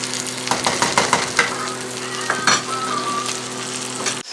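Food sizzling and frying in a covered pan on medium-high heat while cooking a Southern breakfast, a steady close hiss with a few clinks and stirring knocks, no talking.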